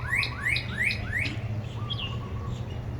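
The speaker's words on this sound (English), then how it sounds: "Do you hear the birds?" Small birds chirping in a herb garden, a quick series of four bright rising chirps followed by a softer call, clear and fairly close over a low steady background hum.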